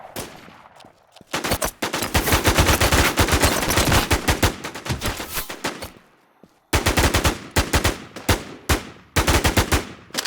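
Rapid automatic gunfire from a SIG rifle in the online survival shooter Infestation The NewZ: loud, close bursts of sharp shots cut by brief pauses, the last bursts shorter and choppier, with no talking.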